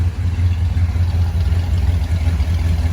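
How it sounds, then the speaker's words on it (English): A restored 1953 Ford Thunderbird's exhaust idles close by with a steady, deep, loud rumble and slight throbbing pulse, no one speaking. "I'm gonna come around here so you can hear the exhaust."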